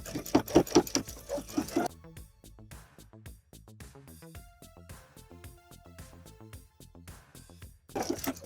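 A sewing machine edge-stitches close to the folded fold of a bias facing hem, its quick mechanical chatter coming in short bursts with pauses between runs, fairly close and moderately loud, with no talking.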